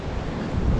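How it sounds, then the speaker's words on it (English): Wind gusts outdoors near the water, a brief, loud, rumbling buffet against the microphone with a steady rushing wash underneath. "It's very windy."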